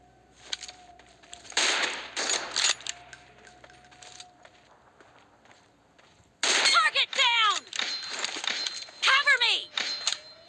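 Bursts of gunfire in the mobile battle royale game PUBG Mobile, sharp clanging shots in quick rapid volleys, loud and close, separated by quieter stretches while players talk.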